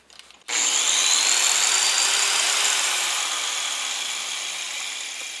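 A power sander or grinder spins up sharply and runs steadily, a loud high whine smoothing weld seams on a Super Fusca car body panel, the pitch sagging slightly on weak electrical supply.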